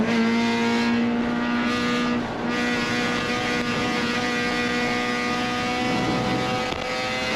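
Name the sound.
GLTC race cars passing at Lime Rock Park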